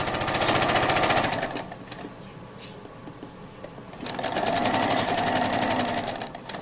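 A sewing machine stitches a short angled seam in two fast, rattling bursts separated by a brief quieter pause, close and loud.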